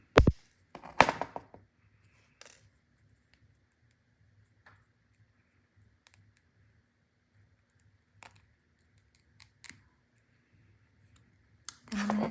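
Excess wire snipped with cutters while making a butterfly sun-catcher: a few sharp clicks near the start, then scattered faint ticks and taps in a quiet room, ending with another louder click.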